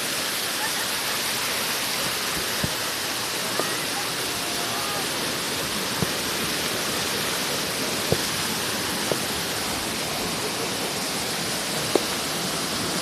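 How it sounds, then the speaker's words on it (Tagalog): A small waterfall near a home in Rizal gives off a steady, full rush of falling water, with a few faint clicks and knocks now and then. "Etong isa mini falls."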